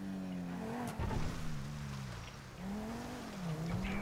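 An Audi R8 engine in GTA 5, a steady revving drone that rises and dips in pitch across a few seconds, with a sharp knock near the one-second mark.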